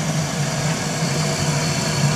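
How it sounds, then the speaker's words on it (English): A 3/4-inch motor blower feeds an oil-fired metal-melting furnace melting cast iron, giving a steady, loud mechanical hum with a low drone and broad airy rush, unchanging throughout. "There's a blower, a 3/4-inch motor blower."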